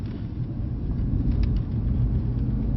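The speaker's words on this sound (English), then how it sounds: "You hear the tyres rumbling away." The tyres of a Mercedes C63 AMG produce a steady low rumble under continuous road noise, loud and close, with no voices.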